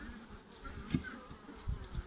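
A steady buzz of many honeybees at hives hums throughout, close and continuous, with a few brief knocks and rustles mixed in.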